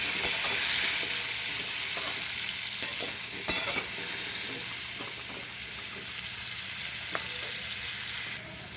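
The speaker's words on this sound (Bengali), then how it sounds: "পেঁপেটাও ভেজে নেব।" Papaya pieces seasoned with salt and turmeric fry in hot oil, giving a dense, continuous close sizzle with a few light taps of stirring and no talking.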